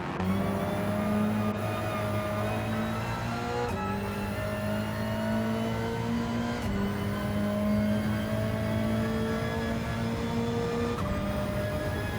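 A high-revving race car engine in Gran Turismo 7 screams continuously, pitch climbing through gears with sharp drops at each shift, loud and close with no talking.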